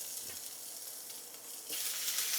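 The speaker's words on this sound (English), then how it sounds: "Get that oil mixed on that pan thoroughly. Spam goes in." Spam slices dropped into an oiled pan over turned-down heat, a close, steady hiss of frying that swells into a louder, brighter sizzle partway through.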